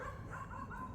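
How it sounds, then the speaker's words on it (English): Small yappy dogs in a residential neighbourhood bark in quick, distant yips over a second of outdoor background noise. "It's a neighborhood full of yappy dogs."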